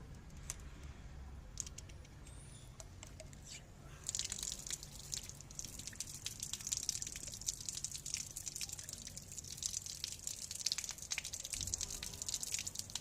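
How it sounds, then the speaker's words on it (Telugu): Water pours from a tap into a tank. There is a faint steady trickle and drip at first, then the flow grows louder and brighter after a few seconds into a continuous splashing rush with scattered drips, close by and without voices. "ట్యాప్ ఆన్ చేయి."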